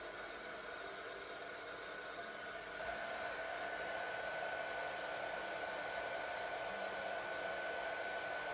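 A heat tool blows steadily throughout a session of heat embossing a greeting card, a loud, continuous hair-dryer-like whoosh that steps up slightly in intensity partway through, with no talking.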